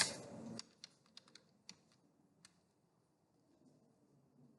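Commands are typed on a computer keyboard during a Cisco router SSH setup in Packet Tracer: a burst of close keystrokes, then sparse clicks fading to quiet.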